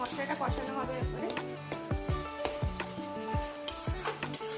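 A spice masala with a little chili powder is stirred and fried in a pan for a bhetki fish bone curry. Soft sizzling runs under repeated scraping stirs, with tonal sounds in the background.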